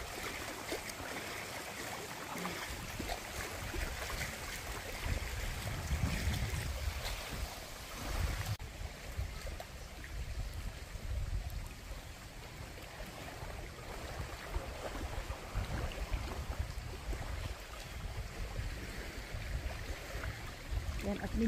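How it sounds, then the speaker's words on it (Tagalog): Steady wind rushes over the low wash of sea waves, a broad continuous roar with gusts swelling and fading, no voices. "dahil nga may hangin na kasama at ang tubig dagat"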